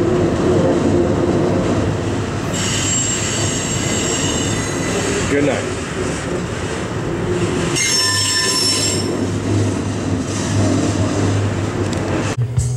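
Train cars rolling past with loud, sustained high-pitched wheel squeal over a steady low rumble, nearby and continuous; a voice briefly speaks.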